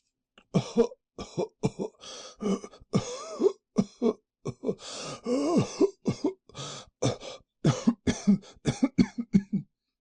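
Repeated coughing fits performed as part of an audiobook reading of a Poe story, a series of short harsh bursts and throat-clearing sounds close to the listener, alone without other talk.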